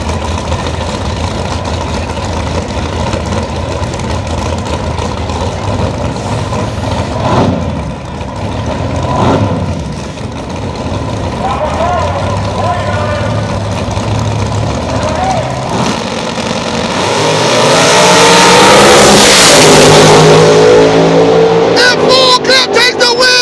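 Big-block street race cars idle with a heavy low rumble, then roar loudly as they race, the engine noise swelling toward the end while people talk over it.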